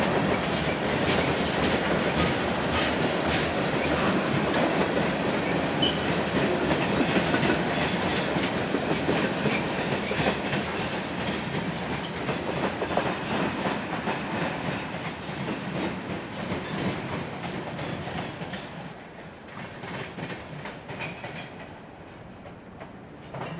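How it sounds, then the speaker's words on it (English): The BP9 freight train rolls past at Dolton Junction, a steady, loud rumble with rhythmic clickety-clack from the wheels over the rails, fading slowly as the cars go by. "The BP9 job runs a nightly turn out of Blue Island to feed the railroad's Burnham Yard east of here near the Indiana state line."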